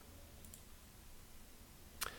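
A single crisp mouse click sounds once, close and brief, on a Compute button in statistics software in an otherwise quiet room.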